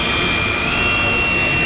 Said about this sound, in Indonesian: Kita menggunakan mesin CNC.